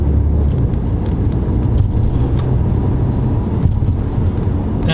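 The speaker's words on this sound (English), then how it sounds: "The transmission shifts quickly to higher gears." Audi A5 Sportback TFSI quattro with S-Tronic dual clutch transmission accelerating, its engine a steady, loud low drone heard from inside the cabin with road rumble and no talk.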